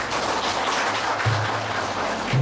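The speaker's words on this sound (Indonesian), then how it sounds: "berikan sambutan tepuk tangan untuk beliau" Applause from the audience at a religious gathering for a speaker, a brief, dense and fairly loud patter of clapping with a low hum underneath.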